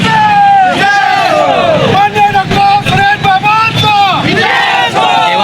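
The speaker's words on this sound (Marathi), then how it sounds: "त्यांची घोषणाबाजीने हा परिसर जो आहे तो सध्या दणाणून गेला आहे" Outside an election results centre in Karad, a large crowd of cooperative panel supporters loudly chants slogans in rhythmic, rising and falling shouts to celebrate a victory.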